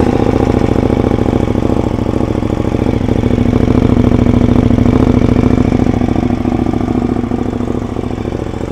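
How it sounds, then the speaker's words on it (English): A KTM Super Duke motorcycle engine on a cold start, idling loud and close with a steady, throbbing mechanical rumble that holds throughout. "Little cold start on the Super Duke."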